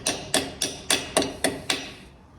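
Metal wrench tapping on a car part, seven sharp, evenly spaced knocks in quick succession, close and clear, each with a brief ringing decay, no talking.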